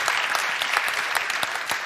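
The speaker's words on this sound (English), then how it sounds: "A warm applause again for Avid, Fayaz" An audience at a TEDx salon panel gives a short burst of dense, steady clapping that fills the room.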